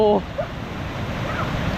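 Rushing water at Soi Sawan waterfall in a Thai national park, a steady broad roar heard up close, with a brief voice at the start.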